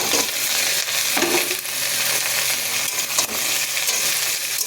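Black cumin seeds frying in fish oil as a tempering for potato and pointed gourd, a steady, dense sizzle that holds loud and unbroken with faint stirring scrapes.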